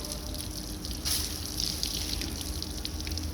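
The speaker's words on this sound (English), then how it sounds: "allowing it to flush from the outlet as it seats and through the service plug" Water flushes out of the outlet and service plug of a combination air valve during servicing, a continuous rushing, splashing hiss with small surges, steady throughout.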